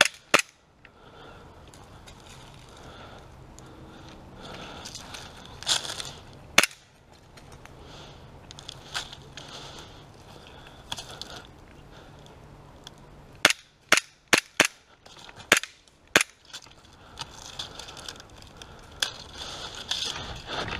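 Sharp snapping shots from propane-powered airsoft pistols in a backyard game, scattered singly and in quick clusters of several, close and crisp over faint outdoor background.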